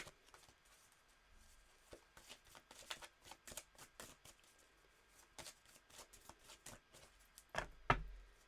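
Tarot cards being shuffled and laid down for a reading, a quiet series of soft riffling slaps and flicks at an uneven pace, close by, with one louder thump near the end.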